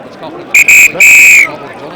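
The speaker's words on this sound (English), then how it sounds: "That's the half-time whistle in the background too" Referee's whistle at a schools rugby match, sounding three sharp blasts (two short, one long) loud over distant crowd and commentary-level background noise.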